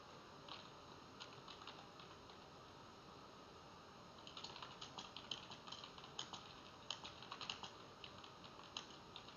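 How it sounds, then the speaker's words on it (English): Quiet keystrokes tap on a computer keyboard, sparse at first, then quicker bursts of clicking, faint and near, with no talking. "I'm typing"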